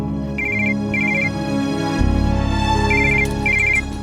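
A phone ringtone plays in repeated short electronic bursts of beeps over a steady tonal background, loud and close.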